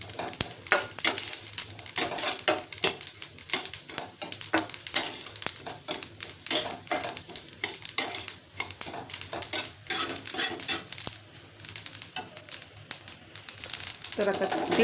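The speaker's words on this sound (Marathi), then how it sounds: "तीळ, कमी फ्लेमवरती छान असे भाजून घ्यायचे।" Sesame seeds roasting in a pan over a low flame, a rapid, busy patter of light clicks and scrapes as they are stirred, continuous and close for the whole stretch, with a voice speaking over parts of it.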